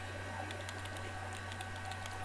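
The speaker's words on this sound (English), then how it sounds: "We're typing." Faint, quick key clicks of a computer keyboard in the video game Everlasting Summer, scattered irregular taps over a steady low hum with no talking.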